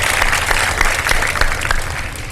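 A studio audience at a televised Ramadan iftar show breaks into steady, dense applause, loud and continuous from start to finish with no pause.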